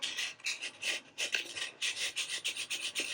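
Paper trimmed for a handmade Christmas tag, a close, steady series of short scraping strokes in a quick, uneven rhythm, with no voices.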